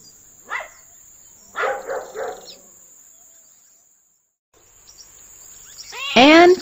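Dogs barking inside an animal shelter, a few separate barks and yelps with short gaps and a brief quiet spell, ending in a louder, close burst of barking.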